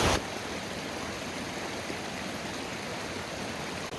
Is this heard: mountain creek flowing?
yes